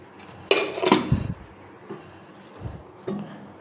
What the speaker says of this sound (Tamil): இங்கே பாத்திரம்லாம் கழுவுன பாத்திரம்லாம் இங்கே அடுக்கி வச்சுக்குவோம்